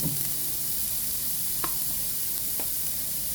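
Onion and garlic sauté in a pan as a steady soft sizzle and hiss runs throughout, broken by a couple of faint stirring clicks.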